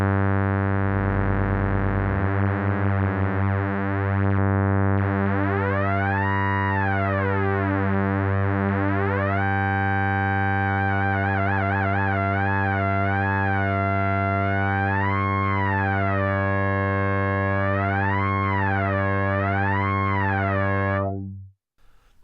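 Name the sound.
Behringer Odyssey synthesizer oscillator sync modulated by LFO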